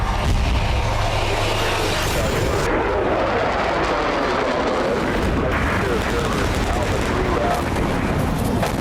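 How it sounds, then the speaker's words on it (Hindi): A Rafale fighter jet in flight gives a loud, continuous roar that drowns everything else and swells and shifts as it passes overhead. "आसमान में बेधड़क अंदाज में उड़ते राफेल फाइटर जेट की गर्जना, इसकी दहाड़, इसकी ललकार दुश्मनों के होश फाख्ता करने के लिए काफी है।"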